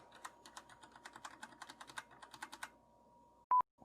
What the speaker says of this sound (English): start pressing the delete button on your keyboard. And keep pressing it like so